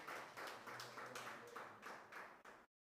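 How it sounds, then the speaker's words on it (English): Audience applause at the African Nations Cup UK draw event in London, with several bursts of clapping from a small crowd, heard faintly and at a distance before cutting off abruptly. "So let's give him another hand of applause for"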